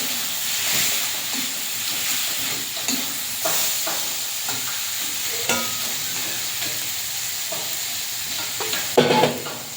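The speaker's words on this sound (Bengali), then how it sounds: "পরিমাণ মতো হলুদ টমাটো কুচি দিয়ে মশলাটা ভালো করে কষে নিই" Turmeric and chopped tomato masala stirred and fried in a pan in a village kitchen, with steady close sizzling and hiss broken by repeated scraping stirs and a louder clatter near the end.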